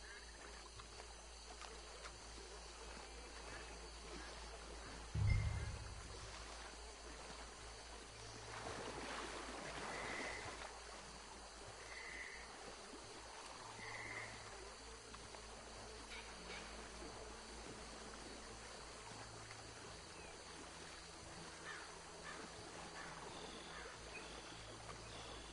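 A stream of water flowing steadily in Red Dead Redemption 2, a soft continuous wash with a brief thump near the start and quiet game sounds scattered over it.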